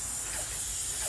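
A paint spray gun with a small tip giving about a six-inch fan sprays paint indoors, a constant close hiss held steadily without a break.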